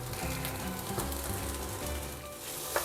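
Moo yor pork sausage fried rice with sugar and dark soy sauce, stir-fried in a hot pan: a steady, dense, close sizzle crackling without pause, ending in a faint clink.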